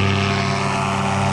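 A light aircraft engine runs at full throttle on a Florida evening flight, a steady, loud, continuous drone with a low propeller hum and strong harmonics and no pauses.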